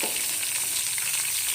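Whole cumin seeds sauté in hot oil for a tadka for masoor dal, giving a steady, bright sizzle and crackle close to the pan with no talking.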